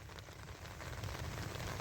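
Heavy rain pours steadily over a village in Pakistan, a dense, even hiss of drops on surfaces that swells slightly louder toward the end, with no voices.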